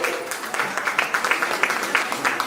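A crowd at a reality show in Purulia claps loudly and steadily, with many hands beating in a dense, slightly uneven rhythm throughout.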